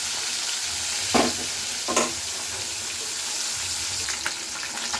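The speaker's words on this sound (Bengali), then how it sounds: "এটা যেহেতু শোরমাই মাছ, একটু হালকা করে ভেজে নিতে হবে। এইভাবে নাড়িয়ে নিচ্ছি।" Surma fish fries lightly in a pan and sizzles steadily at close range, broken by a few scraping stirs near the start with a spatula or spoon.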